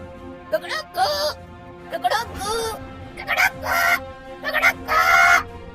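A voice imitates a clucking hen in a string of short, bursty squawks and cackles, loud and close, with brief gaps between calls.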